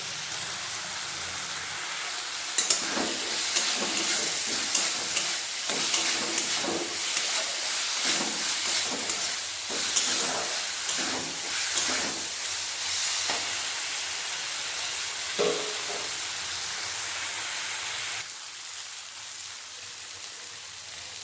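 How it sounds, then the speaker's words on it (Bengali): Potatoes sizzle and fry with spices in a pan for a broccoli potato curry, a steady close hiss and crackle that drops slightly near the end, with no talking. "আলুটাও ভালোভাবে কষিয়ে নিয়েছি"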